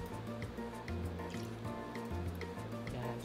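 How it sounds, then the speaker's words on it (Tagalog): Soy garlic sauce for fried chicken pours into a pan, a faint continuous trickle and splash under steady background tones. "Ilalagay na natin yung ating sauce."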